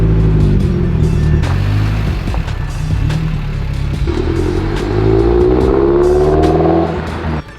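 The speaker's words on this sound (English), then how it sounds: "The official last cold start for the boys." A Mitsubishi Evo engine on a cold start runs with a steady, rough idle, then climbs into a rising rev near the end before dropping off, with no talking.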